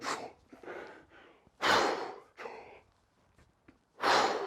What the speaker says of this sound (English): So try it, take a big breath in.